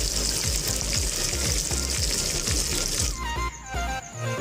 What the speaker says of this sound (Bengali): মশলাটাকে আমি ভালো করে কষাবো